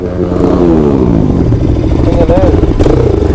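A motorcycle engine revs loudly and close, its exhaust droning and rising in pitch through the whole stretch, at a Republic Day ride, with a voice talking over it.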